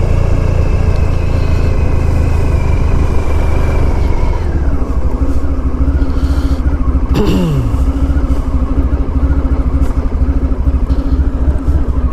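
A 1994 Honda ST1100 touring motorcycle is ridden on the road, its engine giving a loud continuous rumble with wind noise and a gear change partway through.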